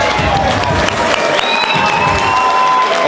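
A live fight event crowd cheers and applauds loudly and continuously, with dense clapping and shouting voices filling the space for a few seconds.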